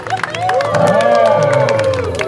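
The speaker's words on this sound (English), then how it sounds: "All right, round of applause for Juliet" Live audience at a Jurassic Park triceratops show cheers and claps for the creature, a short loud burst of mixed cheering and applause with a tonal sound riding over it.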